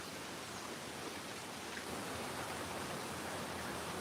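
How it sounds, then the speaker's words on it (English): Rain falls steadily outside among trees full of cardinals, a soft, even hiss that continues unbroken and fairly faint, with no voices. "It's just raining."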